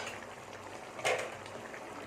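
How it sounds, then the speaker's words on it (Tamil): A pot of vada curry kurma simmers at a rolling boil, a soft continuous bubbling hiss with one brief louder gurgle midway, close and quiet, no talk. "நல்லா கொதிச்சிருச்சு"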